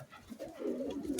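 Pigeons cooing at close range in a local breeding loft, a low throaty murmur that swells and holds steady through the moment, with no voices over it.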